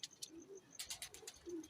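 Teddy breeder pigeons cooing softly in short, repeated low coos, with brief higher chirpy notes mixed in; close and fairly quiet, no talking.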